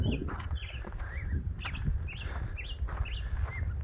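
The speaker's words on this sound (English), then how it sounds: "and the birds." Birds chirp and tweet repeatedly along a morning hiking trail on the Pacific Crest Trail, with short rising calls coming at a steady rhythm over a low rumble of outdoor background noise.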